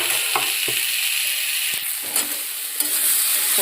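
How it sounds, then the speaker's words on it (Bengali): Curry simmering and sizzling in a pan after fish has been fried, with a steady broad hiss and a few sharp clinks of stirring scattered through, close and continuous with no talk. "মাছ ভেজে তুলে নিয়েছি, নিয়ে আমার তরকারিটা বসিয়ে দিয়েছি।"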